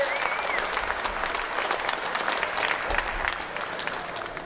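Crowd at an outdoor pro-gun rally in Tallahassee applauding speaker Mr. Robinson, with sustained dense clapping from many people and scattered cheers mixed in, loud and steady throughout.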